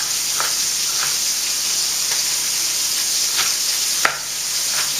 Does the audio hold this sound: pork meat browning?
yes